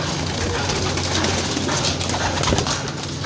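Racing pigeons in a loft give soft, low repeated coos against a busy background hiss, the birds close by and steady throughout.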